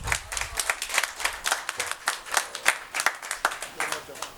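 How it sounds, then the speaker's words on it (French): Audience applause and clapping at a Congolese sapeur gathering in Loudima, a steady patter of many hands that swells and dips over several seconds, with voices mixed into the crowd. "Acclamez s'il vous plaît pour Alino."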